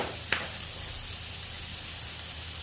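Butter burger patties sizzle steadily on a hot griddle, a low even crackle and hiss throughout with one sharp tap near the start.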